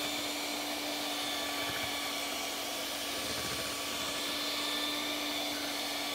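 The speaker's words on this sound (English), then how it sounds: "we're going to use an electric mixer just to finish it off to make sure all those little chunks are eliminated." Electric mixer whipping mashed potatoes in a home kitchen, a steady loud motor whir with a constant hum, running unbroken from start to finish with no voices.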